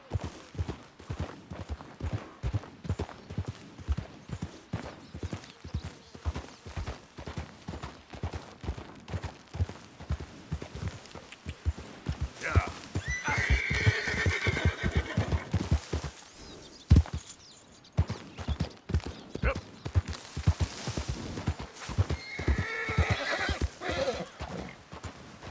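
Horse in Red Dead Redemption 2 galloping on a mountain trail, rapid rhythmic hoofbeats throughout with loud neighs and whinnies breaking in partway, up close and with no talk.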